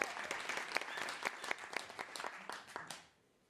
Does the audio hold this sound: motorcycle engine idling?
no